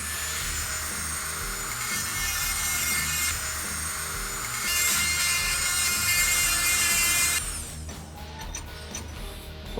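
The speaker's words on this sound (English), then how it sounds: "I'm going to go ahead and just grind this peen portion off." An electric rotary tool fitted with a grinding stone grinds a metal peen off a motorcycle cam chain tensioner part, a loud steady high whine that shifts pitch once and cuts off abruptly near the end.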